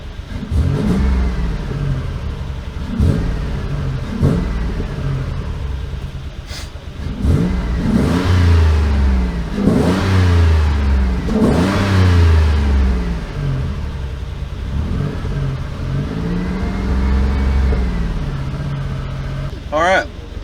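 A 1986 Mazda engine idles steadily with its speed being adjusted, the tone rising and falling slightly over a continuous drone, while someone talks over it throughout.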